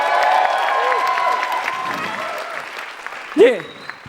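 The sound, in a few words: applause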